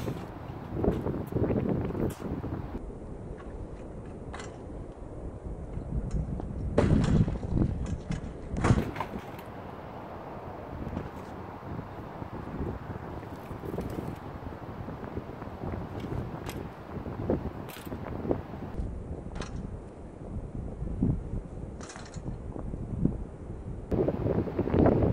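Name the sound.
wind blowing on microphone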